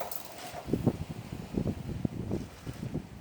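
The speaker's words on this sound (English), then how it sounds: "That's bloody windy." Wind gusts blow against the microphone in uneven low bursts, a soft rumbling buffeting that comes and goes over a quiet background.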